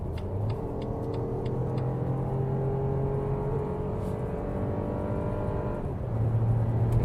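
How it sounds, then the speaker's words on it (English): A BMW SUV accelerates from 100 km/h on a highway, heard from inside the cabin as a steady, loud engine drone and road rumble with a gradually climbing tone that swells near the end. "Now the speed limit is being lifted, so we can do one more acceleration, how that one behaves from 100 kilometers an hour."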